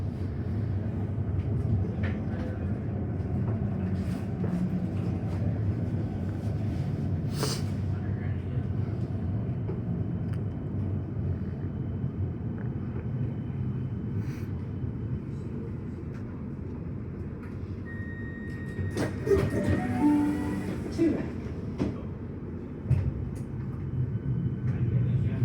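A Siemens train runs on Melbourne's Frankston line, a steady low rumble of the carriage in motion with a brief chime and an onboard announcement tone rising near the end.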